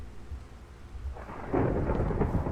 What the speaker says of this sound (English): It's still slightly raining.